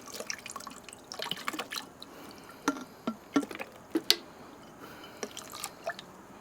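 Running water from a tap splashes and drips as an item is rinsed off under it, with scattered close clinks and droplet sounds at an uneven rhythm, fairly quiet.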